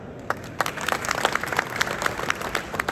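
An audience applauds at a car awards event, a dense patter of many hands clapping steadily throughout, moderately loud.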